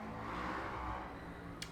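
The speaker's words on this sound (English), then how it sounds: "you hear that motorcycle?" A motorcycle passes outside the room with a steady, faint engine drone that swells slightly and then fades, heard at a distance without any talk.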